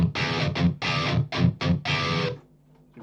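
Distorted electric guitar played through a Line 6 Helix distortion model with a noise gate, hitting six loud, chopped chords in a staccato rhythm before cutting to near silence.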